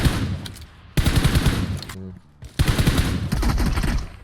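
Rapid automatic gunfire in PUBG Mobile, loud close bursts of dense shots filling most of the stretch, broken by a short quieter pause in the middle before firing resumes.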